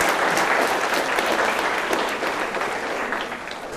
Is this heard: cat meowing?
no